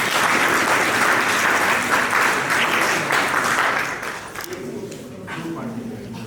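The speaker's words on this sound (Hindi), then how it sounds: "पुलकित के लिए ताली बजनी है।" Students in a classroom applaud a classmate together, a dense burst of clapping that fades after about four seconds, with voices and scattered claps trailing underneath.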